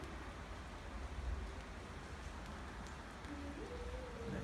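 Rain falls steadily outside a window in Leiria, Portugal, as a soft, even hiss that stays faint and distant throughout, with no one speaking.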